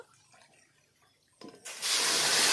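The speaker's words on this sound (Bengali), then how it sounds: "আমি দু বাটি জল দিয়ে দিলাম" Water is poured into a wok on the stove for a thin sugar syrup. A quiet start gives way to a sudden, loud, steady gushing splash.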